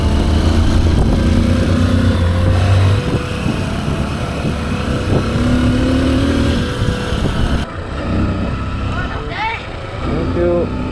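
Honda XR150L motorcycles ridden spiritedly, a steady loud engine drone with shifting pitch and wind rush throughout, briefly quieter near the end as the revs drop.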